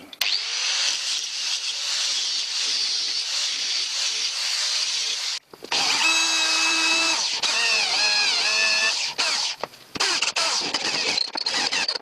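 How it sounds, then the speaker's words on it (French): A power drill drills out a stuck screw during restoration of a flywheel press; it whirs loudly and steadily, stops briefly, then resumes with a higher straining whine that wavers in pitch as it bites, cutting out again. "faut que je la fasse sauter à la perceuse"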